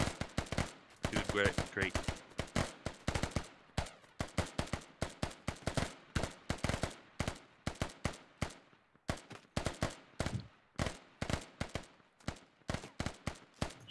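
Suppressive machine-gun fire in the military shooter Squad, many sharp bursts and single cracks from several guns, near and far, rattling steadily throughout; a voice briefly speaks over it.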